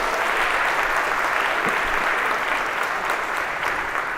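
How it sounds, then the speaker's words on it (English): Audience applause in a university lecture hall, a steady, dense clapping from a large crowd that holds for several seconds at even loudness with no talking over it. "And a round of applause for our volunteers here."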